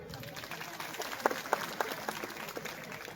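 An audience at a women's 'Home Minister' community event in Jorve claps for Savitribai Phule. The clapping is light and scattered, with sharp claps rising from a murmuring room and a voice heard alongside.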